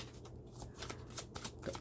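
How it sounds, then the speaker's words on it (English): A deck of tarot cards being shuffled by hand, a series of quick papery riffles and flicks at close range, fairly quiet, with no talking. "now I can shuffle the deck quite good"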